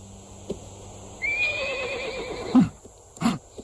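A horse in an animated series gives one long whinny that rises and then trails off, followed by two short, heavy knocks, with no talking.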